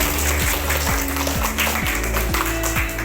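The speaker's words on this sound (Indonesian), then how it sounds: "Tepuk tangan semua." Class of fifth-grade students clapping in rhythm in a classroom, a loud rapid patter of many hands filling the space, with a steady tone running underneath.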